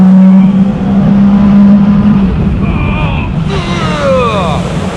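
A Sea-Doo RXP-X 325 jet ski in sport mode accelerates hard across the water, its loud engine roar rising in pitch amid heavy wind buffeting and spray, recorded close from onboard.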